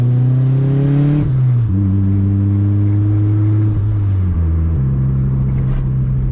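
A turbocharged Honda Civic with a D16Y7 engine and 240cc injectors is revved at wide open throttle on a street drive, a loud, close, continuous engine drone that steps through falling and holding pitches as the revs shift.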